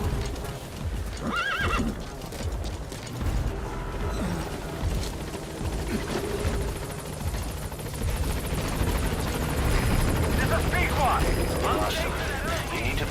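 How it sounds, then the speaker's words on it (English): Support helicopter arriving in Metal Gear Solid V, a steady rotor and engine drone throughout, fairly loud and continuous, with game voices speaking over it. "Support helicopter has arrived."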